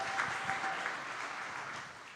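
A live audience applauds steadily throughout for Packers defensive lineman Rashan Gary, a dense, continuous wash of clapping at even loudness with no voices on top.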